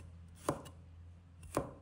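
A knife chops garlic on a board in two sharp, close strikes about a second apart over a faint low hum, with no speech.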